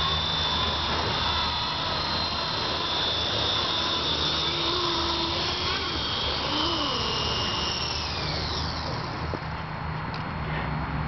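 A Walkera CB180D RC helicopter with a brushless direct-drive tail motor makes a steady high-pitched whine while flying, shifting in pitch as it comes in to land.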